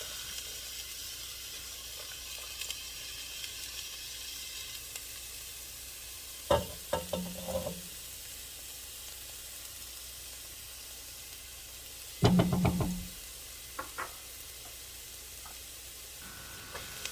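One large diced red onion fries in heated olive oil for taco soup, a low steady sizzle throughout with two brief bursts of stirring and clatter midway.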